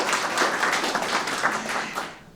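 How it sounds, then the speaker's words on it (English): An audience at a residential renovations celebration claps in a brisk burst of applause that fades out at the end. "Absolutely, claps."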